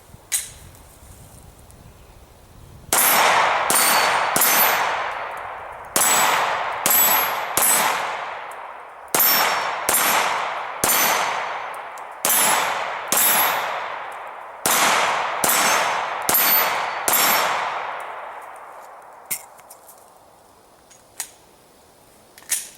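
A Glock 19 9mm pistol fires Silver Bear ammunition at steel targets outdoors, with a dozen or so loud, close shots in quick bursts, each followed by a bright ringing ping from the steel and a decaying echo.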